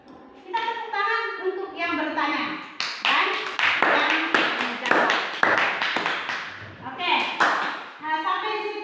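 Classroom audience clapping for a student questioner and answerer, a burst of claps mixed with children's voices and talk, moderately close.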